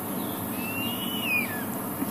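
An owl calls at dusk while out on a drive at sunset: a single drawn-out, wavering call rising and sliding down, moderately distant over a steady background hiss, with no talk.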